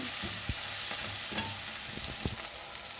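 Onions frying in oil with bay leaf, cinnamon, cloves and cardamom, a steady close sizzle broken by sharp scrapes and knocks of a spatula stirring the pan, no talking.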